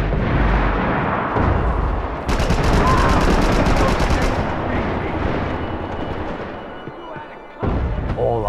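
M4 assault rifle fire in the video game Max Payne 3 comes as dense, rapid bursts mixed with heavy booming impacts. The intensity is loud and sustained, eases briefly near the end, then a final blast cuts back in.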